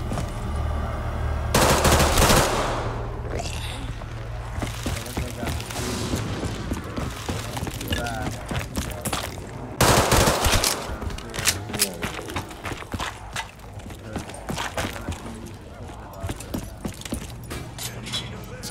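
Machine gun fire in Call of Duty Black Ops 3 custom zombies: rapid, close bursts of automatic shots, with heavy onsets and fading rattles, mixed with game mechanisms and occasional talk.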